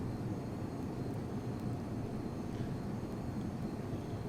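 Steady, continuous jet engine roar from an F-22 Raptor in Flight Simulator X, throttled back on approach, a broad even drone at moderate level with no voices.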